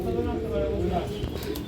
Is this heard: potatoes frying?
no